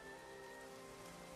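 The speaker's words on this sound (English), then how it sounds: "Then came the rain" Steady rain falls in a continuous, even hiss with a dense patter of drops on a surface, quiet and unbroken for its short length with no voices.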